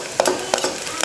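Onions sauté in a pan, a short burst of frying hiss punctuated by a few quick scraping and clicking stirs.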